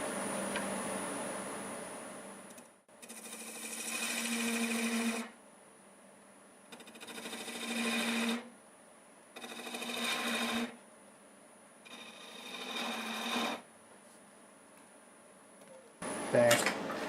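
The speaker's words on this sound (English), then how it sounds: "I'm going to go ahead and cut these grooves in with this little carbide diamond point tool that I have" A wood lathe turning a bird-themed piece while a small carbide diamond point tool cuts grooves, in four steady bursts of mid-loud scraping and whirring separated by quieter pauses, with a sharp knock at the end.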